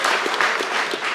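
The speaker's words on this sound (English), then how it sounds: "So round of applause for Parker" An audience at a school spring athletics awards ceremony gives a brief burst of applause for a freshman athlete. The clapping is close, busy and steady, and no talk is heard over it.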